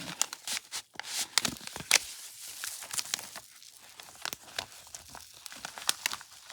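A vellum shaker envelope in a lace journal is opened and handled, giving a steady run of crisp paper crinkles and rustles with sharp crackling peaks, close and alone.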